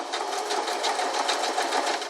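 A sewing machine runs steadily around the corner of a fabric cover, its motor hum and rapid needle stitching close and continuous with no pauses.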